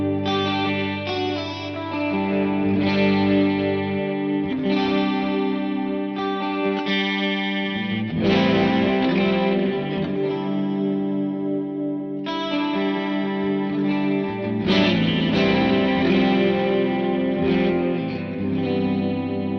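An electric guitar strums open chords through a Line 6 HX Stomp set up with wet and dry effects, giving a clean, chorused, spacious tone with lingering sustain, played steadily for about twenty seconds with no talking.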